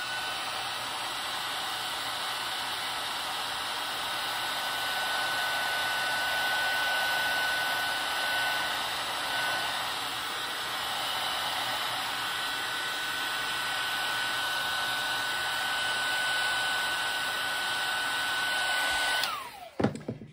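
A craft heat tool blows over an embossed card, a steady loud whooshing fan roar with a thin whine running for about nineteen seconds before it switches off and winds down.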